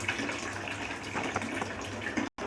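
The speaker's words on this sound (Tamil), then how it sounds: "தண்ணி கொஞ்சம் ஊற்றிக்கலாம்." Steady splashing of water being poured into a pan of egg curry masala, a continuous broad rush that runs for about two seconds before cutting off abruptly near the end.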